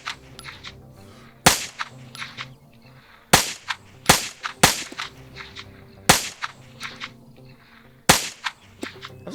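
Suppressed rifle shots in a Chinese special forces mission set in Taiwan, a military video game, firing as about six sharp, snappy cracks at uneven intervals over a quiet, steady ambient background.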